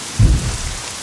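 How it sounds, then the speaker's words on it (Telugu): A short thunder rumble booms early and fades into steady falling rain, loud and close with no talking. "ఎక్కడ తెచ్చాడు వీడు ఈ వర్షం ఇది?"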